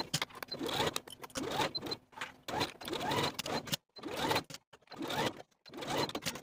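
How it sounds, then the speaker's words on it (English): Sewing machine running in bursts as a waistband is basted to a dress bodice along its bottom edge, several close, steady whirring runs separated by short pauses. "we're going to sew this waistband to the bodice along the bottom from outer edge all the way across to the opposite outer edge using basting stitches"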